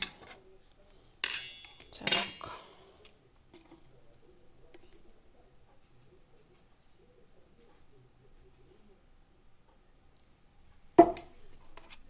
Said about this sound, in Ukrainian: добре перемішую